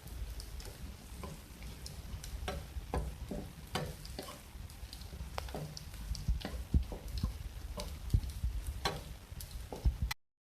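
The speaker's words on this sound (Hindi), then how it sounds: "इसको फ्राई करें। इसके साथ ही सफ़ेद ज़ीरा" White cumin seeds fry in hot oil while a Hindi cook prepares tinda (round gourd) curry, crackling and sizzling steadily with sharp intermittent pops and ticks, close up, with no talk.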